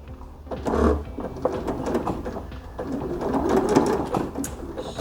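A sewing machine stitches a hooded cape in short, uneven bursts of mechanical whirring and clicking, close by, as the fabric sinks into the machine's gap.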